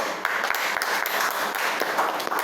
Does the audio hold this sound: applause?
yes